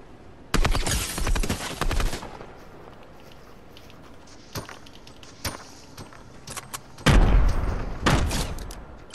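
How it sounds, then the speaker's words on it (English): Gunshots going off nearby in a video game, two long loud bursts of rapid fire at the start and end with a few single sharp shots in between, heard without talk. "So many shots going off nearby."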